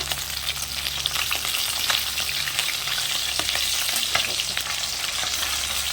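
Chapila fish fry crisp in hot oil in a pan, a loud continuous close sizzle with faint crackles and pops throughout, no voices.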